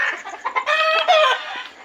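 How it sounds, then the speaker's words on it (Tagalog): Farmyard chickens cluck close by in a short burst of several throaty calls, one drawn out into a longer squawk, with no talk over them. "Ayan, mga manok ni kuya."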